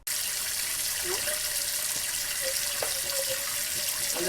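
Kitchen tap water runs in a steady, even stream at close range, continuous and fairly loud throughout, with a few faint clinks or splashes over the flow and no talking.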